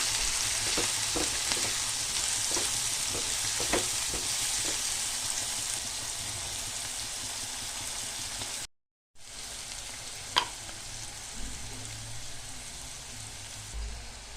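A masala curry sizzles steadily in a frying pan while a spoon stirs it in, with intermittent scraping clicks, a brief silent gap midway, then the steady frying resumes with one sharp tap.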